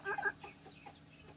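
A rooster makes soft, low clucking calls to a hen, a short burst of close clucks at the start and then quieter scattered calls over faint background noise.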